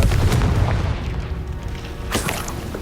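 A fiery Confringo spell blast in Hogwarts Legacy, a deep rumbling boom that opens loud and slowly fades, followed by a second sharper burst near the end.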